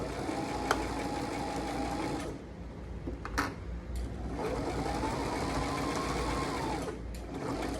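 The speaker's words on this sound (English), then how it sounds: "lower my presser foot, lower my needle, and now I'm ready to sew" A sewing machine stitches a pillow with a steady, close mechanical whir, pausing briefly in the middle before running again.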